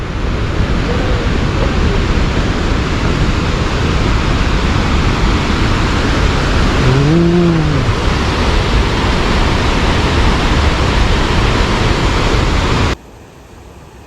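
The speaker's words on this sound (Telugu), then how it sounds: "వాటర్ సౌండ్ వినండి" Loud, continuous roar of rushing water from a waterfall, close and unbroken, ending abruptly near the end.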